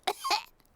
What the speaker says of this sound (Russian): У меня кашель.